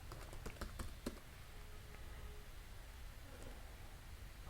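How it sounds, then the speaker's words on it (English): Quick clicks on a computer keyboard during a terminal command: a brief burst of keystrokes, then quiet, faint room noise. "So running this, we'll just type docker"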